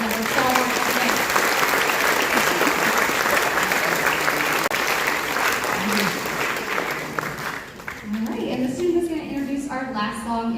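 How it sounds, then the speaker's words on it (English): A school audience at a 5-12 band concert applauds the student musicians in a loud, sustained wash of clapping and crowd noise that thins out near the end, with some voices coming through as it fades. "Let's give another round of applause for these kids that were so great."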